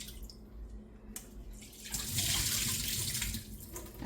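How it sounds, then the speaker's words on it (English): Water pours steadily through a strainer while making cheese curds, a continuous splashing flow that swells midway and carries on to the end. "I pour it through the strainer so that I don't lose any curds"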